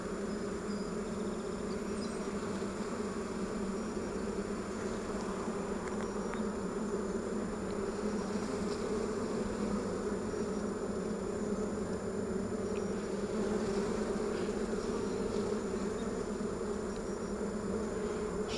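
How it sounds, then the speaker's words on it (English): Honey bees swarm off a frame during a hive inspection, a dense continuous buzzing drone that stays steady and close throughout with no voices. "See how the bees are boiling off the bottom of it?"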